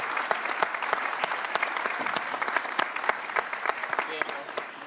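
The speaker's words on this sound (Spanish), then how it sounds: "otro fuerte aplauso a nuestros panelistas del día de hoy por esta charla" An audience applauds panelists after a panel discussion on the future of justice. Dense, steady clapping with crisp individual claps runs throughout at a fairly even level.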